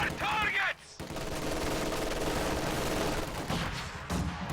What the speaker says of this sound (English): MG suppresses these guards.